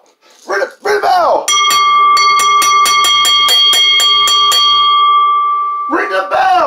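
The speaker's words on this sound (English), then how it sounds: "Ring the bell." A wrestling ring bell clangs rapidly and repeatedly at close range during a street fight main event, a steady run of sharp metallic strikes with a lingering ring, with shouting before and after.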